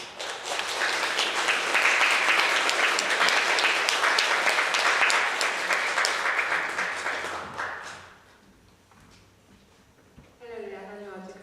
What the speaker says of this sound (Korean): 증거 받으실 때 박수로 축하해 주시기